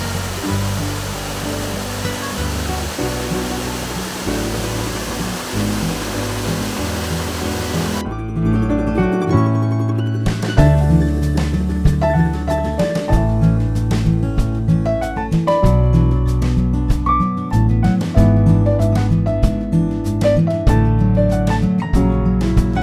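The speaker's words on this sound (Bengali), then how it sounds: "তো এই হ্যাঙ্গিং ব্রিজের ওপর থেকেও কিন্তু ঝর্ণাটা দারুণ লাগছে" A waterfall near Haflong in Dima Hasao, Assam, heard from a hanging bridge close by, roars as a loud, steady broadband rush; music joins about a third of the way in and continues over it.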